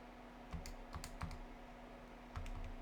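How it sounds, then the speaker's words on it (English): Calculator buttons pressed in a workshop setting, a few soft quick clicks in two short bursts over a steady low electrical hum. "So if you calculate that on my calculator here"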